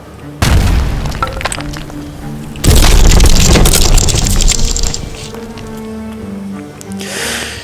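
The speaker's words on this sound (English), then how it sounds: "we're going to detonate this guy, launch it through the amplified panel, and that's going to knock down the tower" A sudden heavy boom followed by a louder crashing blast with rumbling debris, then a sparkling burst near the end, all in a game setting.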